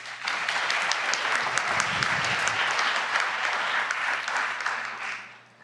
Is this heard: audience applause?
yes